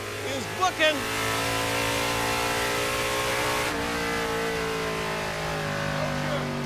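A 1956 Chevy field car's engine runs at a drag strip with a steady, droning, even-pitched hum. Voices can be heard over it, and there are a couple of brief thumps near the start.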